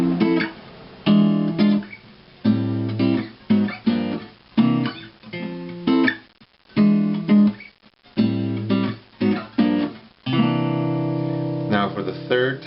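Electric or acoustic guitar strums a jazzy chord progression of minor seventh and ninth chords, with rhythmic strummed chords separated by short pauses, played alone and fairly loud.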